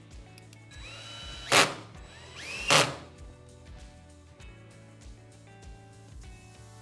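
Power drill driving 14.5mm system screws into brackets for a Blum Revego pocket door system, two short loud whirring bursts with rising pitch, close by, over low background hum and light clunks.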